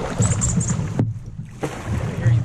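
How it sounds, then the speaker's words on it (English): A canoe runs down river rapids near the Reindeer Lake area, with steady rushing water and hull splashes, close and loud, broken by a brief sudden dip in the middle. "Decided to start going down the rapids."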